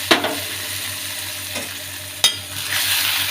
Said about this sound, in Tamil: இந்த மாவை போட்டுட்டு நல்லா கிளறணும்.